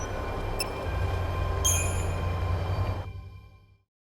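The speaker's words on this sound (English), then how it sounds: "Go ahead and board the train." A train in the video game Final Fantasy XIII Lightning Returns rumbles along with a low, steady drone and brief high squeals of wheels, then fades quickly into silence.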